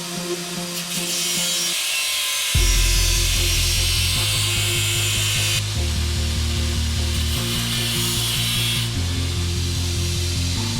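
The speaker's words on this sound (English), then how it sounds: "This was first pilot drilled and then taken out to size using the step drill." A step drill boring a pilot-drilled hole in a bracket for a mini rubber clutch hose on a Power Mini. It starts after a short lead-in, whines steadily and jumps to a new pitch each time it reaches a larger step.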